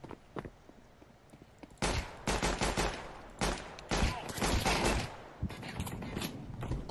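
Counter-Strike 2 gunfire crackles in several sharp rapid bursts, some clustered like automatic fire, separated by quieter gaps with faint mechanical clicks and footsteps.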